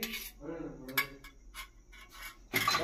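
Gujiya filling of semolina, cardamom and grated coconut stirred with butter in a bowl, giving soft scraping and clinking of a spoon against the bowl in short bursts with quiet pauses between.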